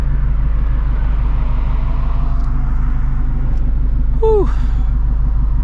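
A straight-piped Shelby GT350 rumbles loudly and steadily while driving through the city at night, a deep throbbing exhaust drone heard from inside the car, with a brief exclamation from the driver.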